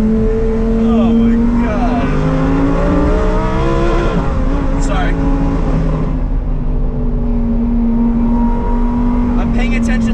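Lamborghini Huracan STO V10 driven on Italian backroads, its engine note rising and falling through revs and gear changes close by, with a sharp blip near the middle, while someone talks over it.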